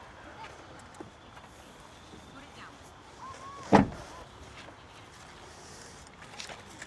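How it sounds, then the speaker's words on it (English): A Tesla Cybertruck car door shuts with a single solid thud midway through, against a quiet background with faint rustling before and after. "I'll show you what happens when we close the door"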